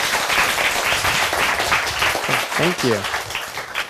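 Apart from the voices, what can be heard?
audience applause after a presentation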